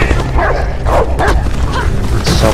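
A dog in the video game Beyond: Two Souls barks and yips in quick, close bursts over a low background rumble.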